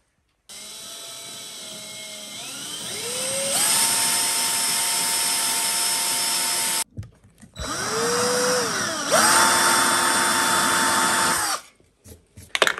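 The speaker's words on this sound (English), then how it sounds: "it cores out a 22mm diameter hole for a 20mm thing" Power drill coring a 22 mm hole for a tap after a pilot hole, two long whining bursts that rise in pitch as the motor spins up, separated by a short pause, close and loud.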